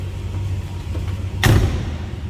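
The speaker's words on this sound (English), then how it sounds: "Door closes nicely." A single solid car door slam on a 1964 Chrysler 300 convertible lands sharply over the low, steady idle of its 383 V8 in the background.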